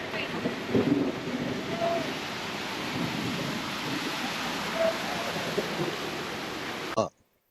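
Typhoon rain pours steadily in Sampaloc, Manila during a low pressure storm, a dense continuous hiss with a deeper rumble near the start, with faint voices in the background before it cuts off abruptly.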